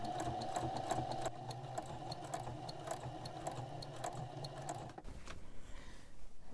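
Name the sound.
sewing machine edge stitching apron pocket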